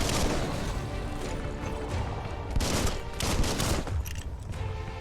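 Dense, continuous gunfire and combat impacts from the action game Biomutant, with rapid overlapping shots and crashes sustained at close range for the whole stretch.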